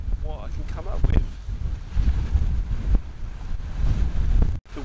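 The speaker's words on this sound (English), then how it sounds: "The wind's a lot lower today" Wind buffeting a microphone on the exposed coast at Portland Bill, Dorset, a steady low rumble with gusty swells throughout and a brief sharp dropout near the end.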